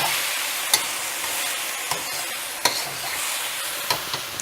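Shrimp and mixed vegetables sizzling steadily in a pan of spicy brown sauce over medium heat, with a spoon or spatula scraping and clicking now and then as the mix is stirred, close and continuous.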